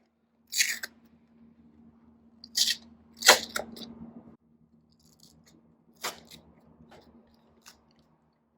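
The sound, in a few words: opening an ice pack wrap envelope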